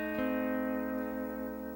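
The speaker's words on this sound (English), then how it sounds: "This sounds like a true diminished chord using the F lever." Pedal steel guitar sounding a true diminished chord with the F lever engaged, a single sustained, close chord with a slight swell at the attack and a long, even ring that fades gently.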